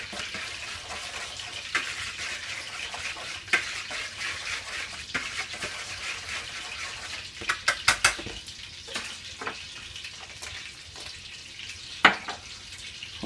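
Dry spaetzle ingredients, flour and the like, being stirred together in a bowl: faint scraping and swishing with a few sharper clinks of utensil against bowl near the end, quiet and close, with no voices.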